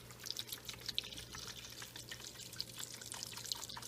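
Stock being poured into a soup pot for cream of broccoli soup, a soft, steady liquid splash with faint drips, quiet and close.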